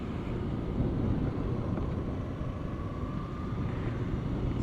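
A Yamaha FZ FI 150cc motorcycle ridden on an open road, a steady low engine and wind rumble that stays loud and continuous throughout, with no talking.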